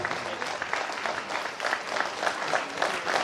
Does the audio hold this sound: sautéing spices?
no